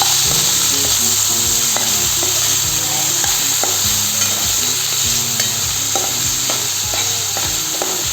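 Potato pieces fry in oil with onion and ginger, a loud, steady sizzle with repeated rhythmic stirring scrapes and clinks of a utensil against the pan, no talking.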